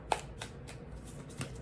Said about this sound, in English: I'm going to pull some tarot cards